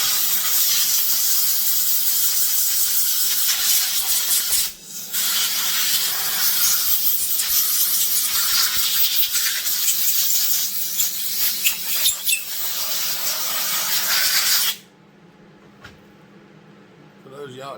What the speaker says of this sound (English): Come here, air hose.